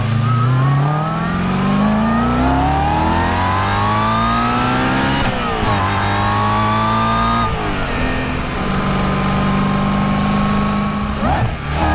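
A supercharged Stage 3 Audi RS4 with four-wheel drive accelerates hard, its engine note climbing loud and close through the gears. Pitch rises steadily, breaks at each shift and climbs again. No one speaks.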